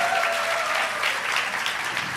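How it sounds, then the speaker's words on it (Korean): Steady applause from a crowd at a Christian musician contest final in a church, a dense wash of clapping that holds at an even level throughout. "여러분 뜨거운 박수 보내주십시오"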